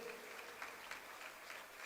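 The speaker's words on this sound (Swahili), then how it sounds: "Tuwapigie makofi mazuri" An audience at a gathering applauds with steady, dense clapping that stays faint and distant through a short burst, with no talk over it.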